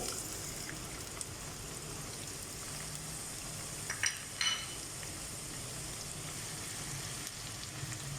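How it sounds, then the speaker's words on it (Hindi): Steady sizzling of ginger and garlic frying in hot ghee, a continuous crackle with a couple of brief spatters or utensil clicks midway. "उसको हम थोड़ा सा गोल्डन कलर तक फ्राई करेंगे।"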